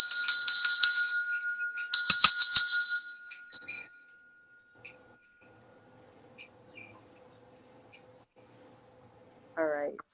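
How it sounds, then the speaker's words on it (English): Two bright ringing strikes of a heart chakra bell, each decaying slowly, followed by near silence with faint soft knocks and a brief voice at the end. "I'm going to ring the heart chakra bell, by the way."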